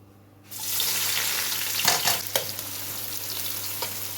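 Onions and whole spices, including star anise, hit hot oil in a pan for chicken karahi: a sudden burst of loud sizzling that holds steady, broken by a few sharp stirring scrapes.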